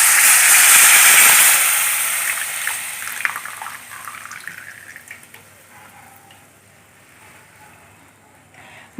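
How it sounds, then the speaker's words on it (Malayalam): Liquid squeezed from mangoes poured into a hot pan for a mango pickle, a loud close splash and sizzle that gradually fades to quiet bubbling with small crackles. "ഇതിലേക്ക് ഈ മാങ്ങയുടെ നിന്ന് കുറച്ച് വെള്ളം വരുന്നുണ്ട് ആ വെള്ളം ഒഴിക്കും"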